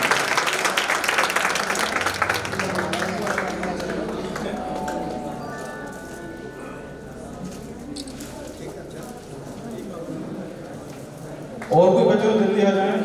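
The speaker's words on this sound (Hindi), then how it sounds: "ताली बजाएं" At a Republic Day stage event, an audience claps for students called up to the stage. The clapping is fairly strong for the first few seconds, then thins and fades while voices carry on.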